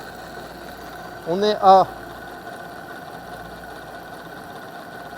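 A small engine runs on a test bench, giving a steady, even mechanical hum throughout, with a brief burst of speech over it near the start.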